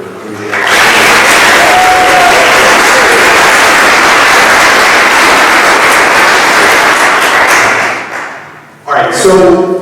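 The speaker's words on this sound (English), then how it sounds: "can we have a round of applause for Patrick for doing that?" Sustained audience applause at a drone technology talk, a loud, dense wash of clapping that holds steady for about eight seconds, then fades as a voice begins speaking.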